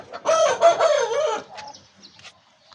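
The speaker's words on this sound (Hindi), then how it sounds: "जो बड़ा मुर्गा आया है जो काना हो गया है" A rooster, a big cockerel blind in one eye, crows loudly and close, then gives a few softer clucks as the call trails off.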